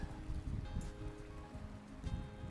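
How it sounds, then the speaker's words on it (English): Rain falls at Muncho Lake along the Alaska Highway on a cold, blustery fall day, a soft steady patter and hiss outdoors mixed with gusty wind noise. "It is a cold, rainy, blustery fall day."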